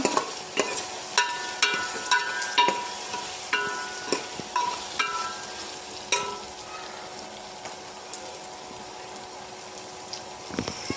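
Ingredients for bombil rice, dried Bombay duck fish, sautéing in a pan: rhythmic close stirring clatter over a continuous sizzle, the regular strokes thinning out toward the end.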